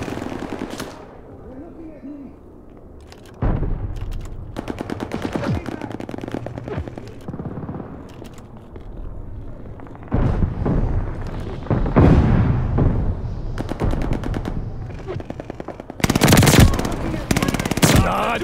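An MG 42 machine gun rips off long, fast bursts in Call of Duty Vanguard multiplayer gameplay, loud rattling strings of shots separated by short pauses, with scattered explosions and game voice callouts underneath.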